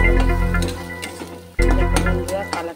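Prawns sauté in a pan with chilli, turmeric and cumin spice paste, a steady close sizzle and crackle with scraping stirs and a brief clank of the spatula midway.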